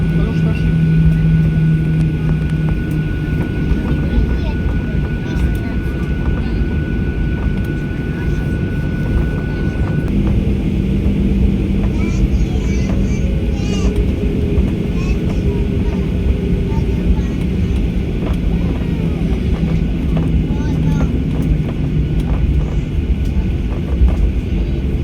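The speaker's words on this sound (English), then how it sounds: "Now let's watch and hear those CFM 56 roars." The CFM56 engines of a Boeing 737-800 drone as a steady, loud roar heard from inside the cabin, a constant broadband rumble with a faint tonal whine that never lets up.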